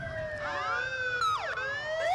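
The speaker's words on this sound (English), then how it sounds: "Honking the horns and the sirens." Wailing, sweeping sirens from rescue squad vehicles rolling in a Christmas parade, rising and falling in pitch and overlapping one another, loud and continuous with no talking.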